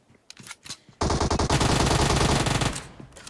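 Uzi fire in PUBG Mobile during a tournament match, a few scattered shots followed by a sustained loud rapid burst lasting nearly two seconds, then trailing single shots.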